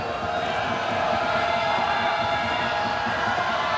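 A basketball arena crowd roars in a dense, steady wash of cheering and shouting during an ASEAN Basketball League game between the Westports Malaysia Dragons and Mono Vampire, loud and sustained with voices mixed in.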